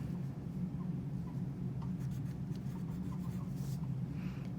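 A pen writes and underlines on homework paper, soft scratchy strokes close by over a steady low background hum.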